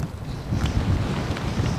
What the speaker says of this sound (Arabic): الريح، الريح بزاف